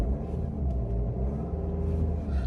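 A 2012 Audi A1 1.6 TDI diesel engine is held at its soft limiter around 2,500 RPM, giving a close, steady, low droning rumble with no rise or fall and no voices.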